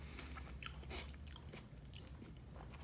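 Chewing chickpeas mixed with onion, curd and chutney, soft wet crunching bites repeating steadily up close over a low restaurant hum, no talking.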